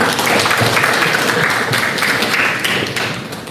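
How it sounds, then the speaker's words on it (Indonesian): A crowd at a government laptop handover event in Central Papua claps steadily in dense, loud applause that carries on for a few seconds before starting to fade. "Kita tepuk tangan."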